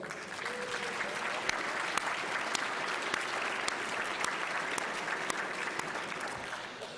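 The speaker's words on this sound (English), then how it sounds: "can I give you a round of applause?" Steady applause from an audience at a 2016 new member induction ceremony, a dense, even wash of clapping with a few sharper individual claps standing out, heard at a moderate distance throughout.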